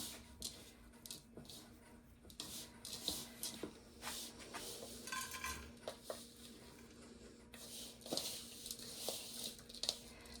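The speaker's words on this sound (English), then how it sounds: "we're going to mix up this topping" Rhubarb crunch crumble topping being mixed in a bowl, with quiet scraping, clinking utensil taps and soft stirring scrunches in an irregular rhythm, close but faint.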